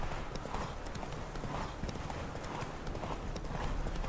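A horse gallops in The Witcher 3: Wild Hunt, its hooves beating a fast, steady clip-clop close up and loud, with no talk in the clip.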